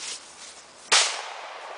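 A .40 caliber Glock pistol fires a single sharp, loud crack partway through, after a quieter stretch with no speech.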